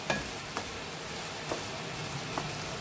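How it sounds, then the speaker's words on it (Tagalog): Chicken and mushrooms sizzle steadily in a frying pan, a dense, even hiss with a few faint clinks of stirring scattered through it. "Ayan, paghalo-haloin natin ulit."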